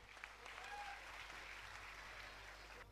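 Steady applause from a seminar audience in Bhuj welcoming a motivational speaker, a dense continuous wash of clapping at moderate distance with no pauses, lasting the whole stretch.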